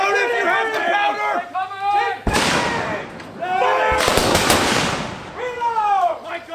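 Musket gunfire in a staged outdoor battle play, two sharp loud volleys crack out, the second longer and rolling, while actors shout commands between and around the shots.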